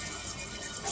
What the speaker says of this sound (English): Now let's give it some hot water.